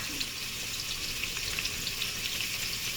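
Garlic frying in a hot pan for seasoned rice gives a steady, close sizzle and crackle that holds evenly throughout, with no talking over it.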